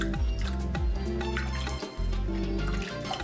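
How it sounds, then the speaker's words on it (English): Water sloshes and drips while a pestle for pounding fufu is rinsed in a kitchen, with close splashy liquid sounds and a brief gurgling pause near the end. "So let me put my pestle and wash it."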